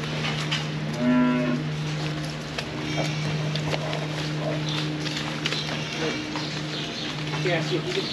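Cattle in a dairy farm's dry cow pen give a few moos near the start over steady barn machinery hum, with people talking nearby.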